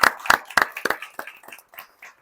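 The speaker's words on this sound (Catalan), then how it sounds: "el podem aplaudir, ja que hi és, mira" A small audience at a magic festival presentation claps for close-up magician Álvaro Oreja: about a dozen crisp, close hand claps that thin out and slow down before stopping.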